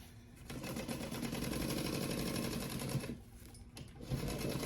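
Sewing machine stitching a crossbody bag, a close, rapid rhythmic needle chatter running for about three seconds, then pausing briefly before a short burst resumes.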